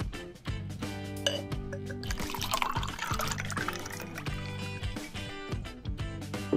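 Dogo Beer from a bottle poured into a beer mug, building a foamy head: a steady liquid splash under continuous background music for several seconds.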